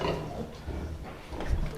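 A sow nursing sixteen ten-day-old piglets grunts in a farm pen, with low continuous grunting and snorting close by and a louder burst near the end, no talk.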